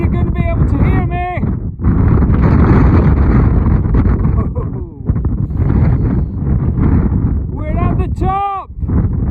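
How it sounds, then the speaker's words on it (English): Strong wind blasts across a North Wales mountain top, roaring loudly against the microphone in heavy buffeting gusts, while a person shouts briefly over it at the start and end. "It's so windy."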